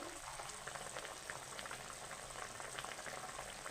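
A pot of boal fish curry at a rolling boil, giving a soft, steady bubbling and simmering hiss that stays faint and even throughout, with no voices.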